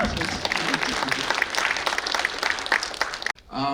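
Crowd applause at a red carpet documentary premiere event, loud continuous clapping and cheering for about three seconds before cutting abruptly, then a speaking voice.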